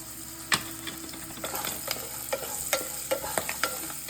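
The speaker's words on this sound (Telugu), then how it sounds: "ఇప్పుడు పల్లీలు వేసేస్తున్నాను." Peanuts frying in a home kitchen pan for lemon rice, stirred with a spoon that scrapes and knocks in irregular clicks over a soft, steady sizzle, close and alone.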